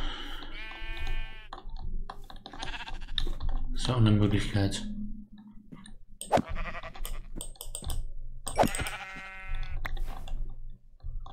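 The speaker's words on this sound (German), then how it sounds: "da schaffen wir es, drei Schafe zu, schwarze Schafe zu killen" Sheep bleat in Minecraft Java Edition while a player types on a computer keyboard; several wavering bleats sound close and loud among clicking keys, with someone speaking between and over them.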